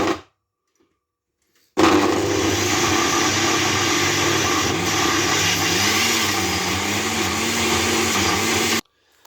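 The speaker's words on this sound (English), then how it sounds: "We're going to operate the blender now, viewers, and get the mixture." A kitchen blender whirs steadily at full speed mixing egg and spinach, a dense motor roar that starts abruptly, holds for about seven seconds with a slight wavering pitch, then cuts off.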